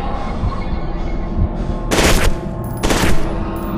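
Gunfire in the horror shooter FEAR 2, two loud bursts of rapid shots over a steady low rumble of game ambience, close and dominant, with no talk.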